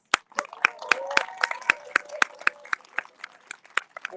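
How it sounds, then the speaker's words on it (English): Scattered applause at a Land Alliance rally as a First Nation chief is called up: separate sharp claps, some close and loud, in an uneven rhythm, with faint talk and tonal sounds underneath. "Can we have a round of applause?"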